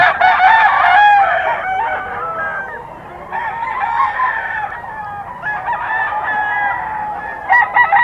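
Several roosters crow in overlapping, drawn-out calls, fairly close and loud, with clucking chickens in the background and no talking.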